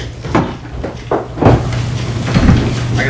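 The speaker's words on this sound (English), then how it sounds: "He just asked me to open the door." A Genesis car door is opened, with several soft clicks and thumps over a low steady hum and no talk.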